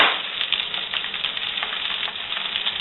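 Spam and bacon frying in a pan, a dense continuous crackle and sizzle of hot grease with scattered sharp pops, close and loud with no talking.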